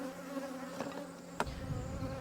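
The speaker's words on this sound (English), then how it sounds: "There's still a lot of bees swarming in that area" Bees swarming around their old spot after a move, a steady low insect buzz with layered hum, one sharp knock near the middle, heard close and alone.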